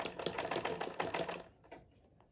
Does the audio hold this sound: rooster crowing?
no